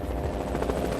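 A police helicopter circles during a manhunt in the North Carolina mountains, its steady low rotor thrum heard faintly at a distance, continuous and even with no voices.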